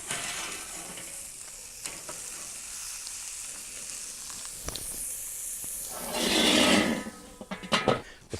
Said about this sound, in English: Let's give some color to our blue cheese olive burgers now.